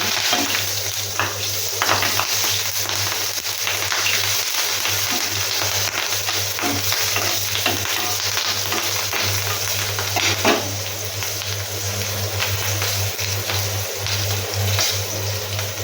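Slit green chillies fry with turmeric in a pan of oil while cooking Bengali mustard hilsa, giving a steady, close, even sizzle that runs without a break and with no voices.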